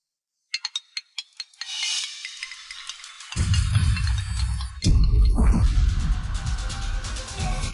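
Phone ringtone sounding as a call is placed, a quick series of short beeps followed by a sustained ringing tone, then heavier clattering, mechanical noise that swells near the end.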